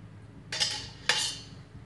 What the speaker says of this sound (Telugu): ముందుగా బాండ్లీ పెట్టుకొని దీంట్లో 1/4 స్పూన్స్ ఆయిల్ వేసుకోండి